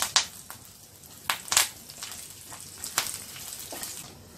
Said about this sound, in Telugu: ఇవి ఫ్రై అయిన తర్వాత కరివేపాకు వేసి వేయించుకోవాలి